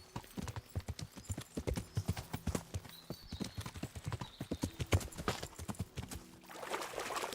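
Horse hooves clop steadily in the Kingdom Come video game as a horse walks into water. The rhythm is even and close, with faint splashing near the end and no voices.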